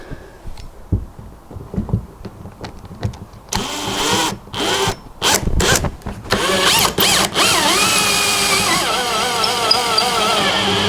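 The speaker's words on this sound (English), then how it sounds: "Put the drill on it." Bursts of a power drill driving screws into a 27 ft Nauticus boat whirring in short pulses, then a sustained higher-pitched run, with clanks and handling noise around it.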